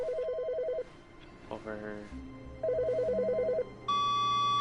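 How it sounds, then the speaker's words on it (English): A telephone rings in The Stanley Parable video game. Two loud, clear bursts of electronic trilling are separated by a short spoken word and other game sounds, and a sustained tone follows. "Another phone call."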